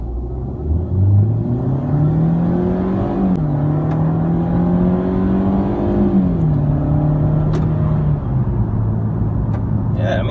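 A Mercedes C180 W204 fitted with a RaceChip tuning box pulls away hard from a standstill in sport mode, its engine note climbing through loud, steady revving with a clear gear change midway and again near the end.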